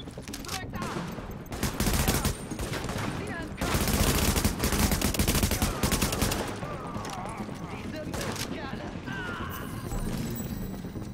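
Bursts of automatic gunfire in the video game The Division, dense rattling volleys repeated across the stretch, with game effects around and a player's voice talking in between.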